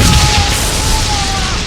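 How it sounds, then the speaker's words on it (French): A supreme dark cartoon explosion booms at full loudness and then settles into a sustained rumbling roar with a faint high ring over it. "Explosion obscure suprême!"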